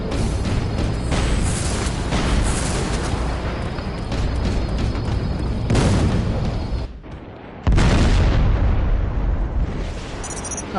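A large explosion in the video game Rogue Trooper Redux booms out loud and rumbling, followed by a brief drop and then a second heavy blast with lingering debris noise.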